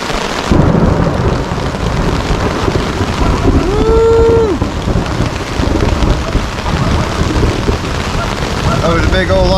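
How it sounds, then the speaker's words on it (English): Heavy rain pours steadily during a thunderstorm at a tarp camp on the Appalachian Trail, a loud constant roar with rumbling beneath and a brief tonal whine partway through. "Oh yeah, it's raining."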